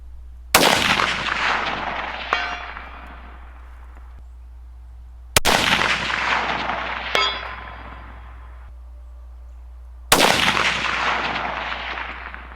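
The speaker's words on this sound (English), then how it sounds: "let's go ahead and see if we can get a first round impact at 450" Three loud rifle shots at a steel target 450 yards away, each a sharp crack trailing into a long echo, with faint distant metallic impacts ringing between shots.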